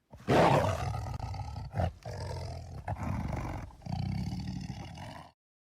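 A tiger lets out a loud, close roar, followed by several shorter growling roars separated by brief pauses, with no speech.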